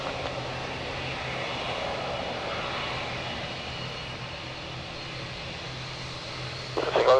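An RAF Airbus A400M Atlas military transport's engines make a steady, broadband roar that holds evenly throughout, with a brief louder burst near the end.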